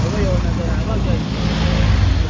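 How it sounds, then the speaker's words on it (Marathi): A vehicle engine hums steadily at close range, with a low continuous rumble and wind noise throughout and no clear voices. "इंजिन चालेल बघा."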